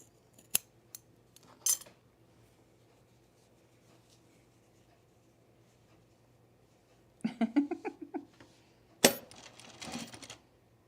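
Scissors trimming pre-quilted jacket fabric: a few faint snips, then a cluster of quick crunchy cuts and a louder final burst of slicing, close up in a quiet room.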